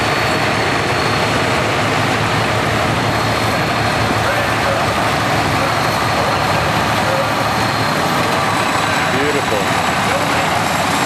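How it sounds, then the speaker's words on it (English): An International 660 standard diesel tractor with front wheel assist runs at a Red Power show, a loud, continuous close engine rumble with a busy outdoor crowd and a commentator's voice over it. "he's followed up by a 660, International 660 standard diesel"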